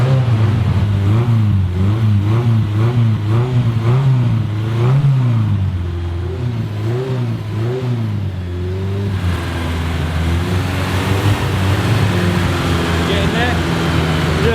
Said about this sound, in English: A bit more revving and the recalcitrant mechanical temperature gauge leisurely began to read